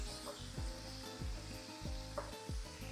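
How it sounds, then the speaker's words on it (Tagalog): Chicken gizzards, hearts and liver sizzle steadily in hot oil, with a stirring stroke scraping the pan roughly every half second, close and alone. "mainit ang ating mantika, medyo pipilamsik yan"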